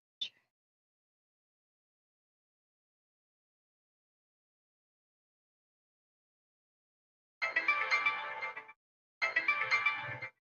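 A phone ringtone sounds in two loud bursts, each lasting about a second with a short gap between them, after a long near-silence broken by one tiny blip at the start.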